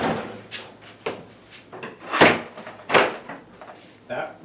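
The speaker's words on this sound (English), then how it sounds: "Closing the door." A hidden wooden panel door in a wall bumps and thuds shut several times, knocking wood on wood close by, while someone talks through it.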